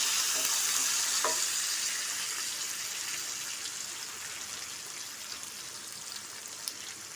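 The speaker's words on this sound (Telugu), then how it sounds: "ఇవి కూడా కొంచెం వేగనిద్దాము." Green chillies, onions and curry leaves frying in hot oil, a continuous bright sizzle with crackling pops. It is loudest at first and eases slightly as it goes on, with a brief stir clink near the start.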